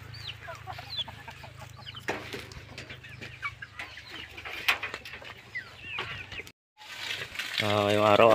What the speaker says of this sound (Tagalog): May mga ilang piraso na lang yung mga manok natin dito.